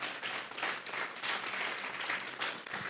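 A congregation at a church service breaks into loud, sustained applause, broad clapping from a crowd that holds steady for the whole stretch with no voices standing out.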